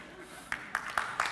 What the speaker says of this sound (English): Wasn't expecting an applause from that.